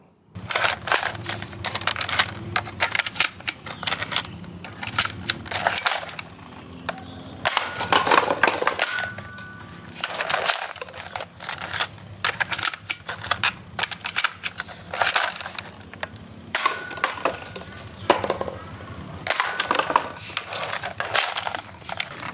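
A Nerf Blaze Storm double-barrel blaster is worked by hand, giving rapid plastic clicks, clacks and snapping bursts in uneven clusters with brief pauses, close up and fairly loud.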